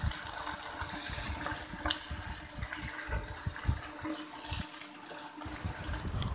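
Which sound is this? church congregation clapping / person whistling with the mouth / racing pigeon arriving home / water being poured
water being poured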